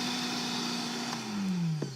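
An electric blender runs steadily with a continuous motor whine whose pitch sags slightly near the end, loud and close, without talk.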